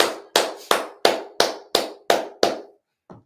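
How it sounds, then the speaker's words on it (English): At a Sabbath service, a congregation claps in unison: seven sharp, evenly spaced loud claps in a steady rhythm, then a pause and one softer, shorter clap at the end. "All right, clap it up."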